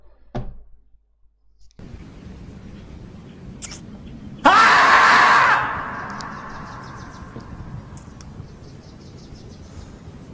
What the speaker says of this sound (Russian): Кричать и орать я могу вообще бесконечно